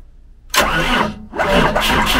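A Cummins diesel engine swapped into an RV turns over in two loud, rough cranking bursts separated by a short pause, as if struggling to start.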